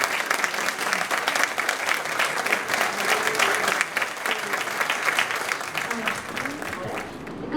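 Loud, sustained applause from a conference audience fills the hall, a dense steady clatter of many hands with a faint murmur of crowd underneath, holding strong throughout and easing slightly near the end.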